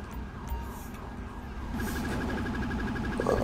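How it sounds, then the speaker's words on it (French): Police siren wailing in the GTA V LSPDFR police mod, with a steady rising and falling tone over traffic and game ambience, close and moderately loud throughout, with no speech. "La sirène, par contre, ce serait peut-être cool de la couper."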